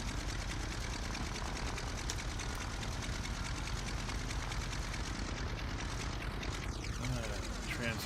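A propeller aircraft engine in a flight simulator drones steadily at idle, then winds down as the left engine is shut off, with a voice talking over the engine.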